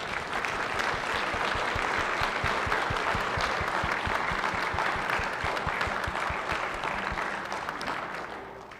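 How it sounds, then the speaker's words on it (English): Sustained applause fills the Hawaii Senate chamber during a floor session, a dense steady wash of many hands clapping at once that holds for several seconds before tapering slightly at the end. "Let's give a round of applause to those individuals that were just acknowledged."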